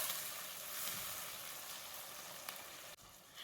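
Onions and two medium tomatoes sauté in a pot for one-pot dal rice, giving a steady, close hiss of sizzling with a faint clink near the end.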